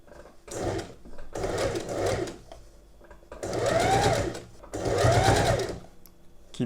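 A sewing machine stitches a pin hem on thicker fabric, running in three loud bursts with short pauses between them. It is close and plainly heard, with no talking over the machine.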